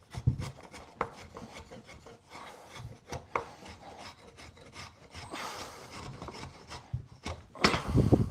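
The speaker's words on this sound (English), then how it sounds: "It's a DMT diamond sharpener, fine. They cut quite well actually." A fine DMT diamond sharpener rasps against a wooden axe handle in repeated rubbing strokes, close and fairly quiet, with a louder burst of scraping near the end.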